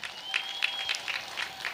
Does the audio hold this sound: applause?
yes